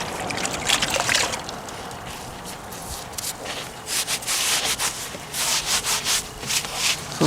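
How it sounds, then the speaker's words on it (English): A damp sponge rubs and wipes over fresh mortar on repointed stonework, making a steady scrubbing swish that turns into a series of rhythmic strokes, close and moderately loud. "water and the sponge. Clean it up like that."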